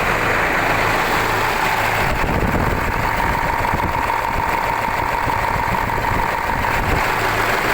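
An engine idles loudly and steadily up close, a constant low rumble with a faint whine, its tone shifting briefly partway through.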